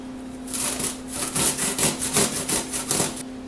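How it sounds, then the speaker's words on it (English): Large cucumber rubbed across the large holes of a grater, a close rhythmic series of about a dozen quick rasping strokes over a steady low hum. "using my large holes, I'm going to grate my cucumber"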